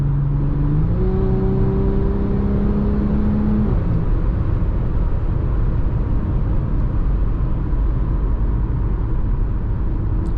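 A 2018 Audi SQ5 driving onto a highway exit, heard from inside as a loud steady engine hum and road roar, with a rising then falling engine tone early on.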